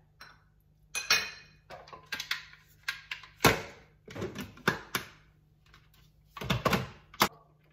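Lemon juice and sweetener are stirred together in a container, producing a run of sharp clinks and taps in an uneven rhythm, close and fairly loud against an otherwise quiet background.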